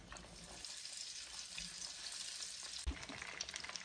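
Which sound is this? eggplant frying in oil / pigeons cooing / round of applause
eggplant frying in oil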